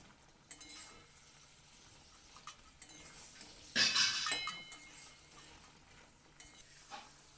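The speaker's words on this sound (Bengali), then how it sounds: "দিয়ে এবার নাড়াচাড়া করে একটু রসের মধ্যে ফুটিয়ে নেব।" Fried semolina sweets being stirred and boiled in sugar syrup in a pan: soft bubbling and sizzling with light scraping stirs, and one brief louder clatter near the middle.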